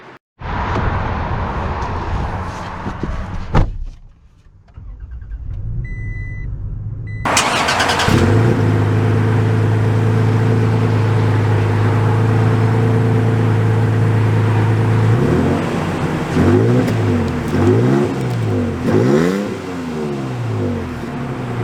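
A 2022 Toyota Tacoma TRD Sport starts up and idles with a steady hum, then revs and pulls away with rising and falling engine pitch, heard from inside the cab.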